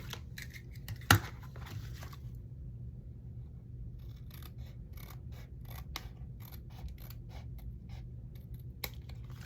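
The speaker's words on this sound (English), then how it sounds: "Let me cut this here a little bit more." Scissors cut through repurposed packaging, rounding the corners of a small flapped pouch: one sharp, close snip, then a run of faint, quick clicks and small snips over a quiet room, with no talk.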